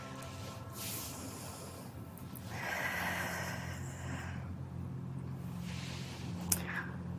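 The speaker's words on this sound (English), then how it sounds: "Big inhales and big exhales." During a gratitude and joy yoga practice, someone breathes slowly and deeply. Long airy inhales and exhales come close to the microphone in a quiet room, with no talking.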